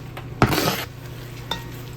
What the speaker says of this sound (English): I'll be cooking my ground beef and onions